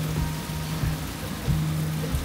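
Steady rain falls on a city street in Lisbon, Portugal, a continuous broadband hiss with a low hum running beneath it and no voices.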